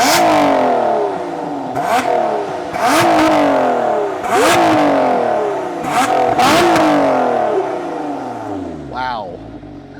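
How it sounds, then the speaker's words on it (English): A 2024 Lotus Emira's supercharged V6 engine revs repeatedly, each rising snarl followed by a falling whine, several loud bursts in a row before settling to idle. "this engine, as you guys know, is a supercharged V6 and it has an amazing sound"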